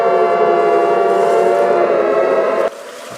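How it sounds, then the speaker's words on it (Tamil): A strange, steady siren-like tone heard out in the middle of the sea, loud and sustained with layered harmonics, holding for nearly three seconds before abruptly dropping to a quieter hum. "நடுக்கடலில் அதுவும் ஒரு சைரன் சத்தம் மாதிரி இருக்குது"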